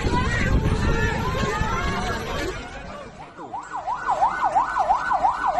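An ambulance siren arrives at a collapsed office terrace roof at the Brebes regency building in Indonesia, its rising-and-falling wail growing clear and steady over loud crowd chatter and commotion.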